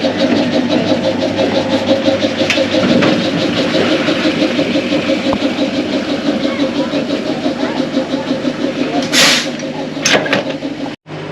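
A heritage train engine is shunted around to the front at Double Barrel Station on Tasmania's West Coast Wilderness Railway, giving a loud, steady engine chug with rhythmic pulsing, a brief hiss near the end and a sudden bang.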